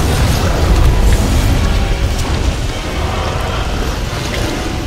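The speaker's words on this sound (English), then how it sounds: "Freaking Dragon Breath Bomb" A roaring, sustained rumble of dragon breath from Savage Deviljho in Monster Hunter World: Iceborne, loud and broadband with heavy low-end boom, fading slightly toward the end.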